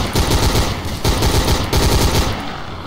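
Loud, close SMG fire in the zombie shooter game Codename CURE, rapid rhythmic bursts with brief pauses between them.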